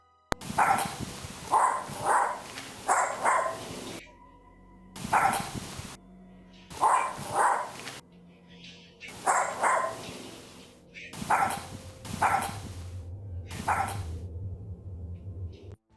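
A dog barks repeatedly on home security camera footage, in clustered bursts of sharp barks separated by short pauses, fairly close and clear over a quiet background.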